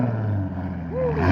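A 2007 Ford Mustang V6 on straight pipes with no exhaust drones loudly up close, with a rising rev swelling near the end.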